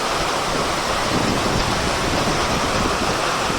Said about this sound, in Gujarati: અત્યારે છે ને વરસાદ પડે છે ને એટલે અવાજ બહુ ન આવે આપણો, એટલા માટે ખાલી વરસાદનો અવાજ જ આવશે